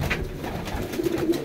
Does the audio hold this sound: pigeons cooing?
yes